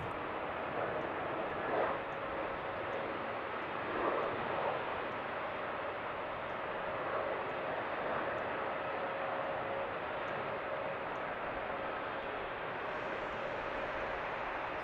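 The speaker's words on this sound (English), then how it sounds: "there's our British Airways ready to do the takeoff roll" British Airways airliner starting its takeoff roll at Seattle–Tacoma airport, a faint, distant, steady jet roar with a broad rushing hiss that holds level throughout.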